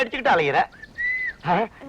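A person whistles a single sustained note between bursts of talking, the whistle clear and fairly close in a conversation about a habit of whistling at a bus stop.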